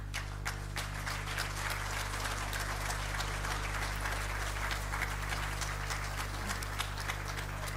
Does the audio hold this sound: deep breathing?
no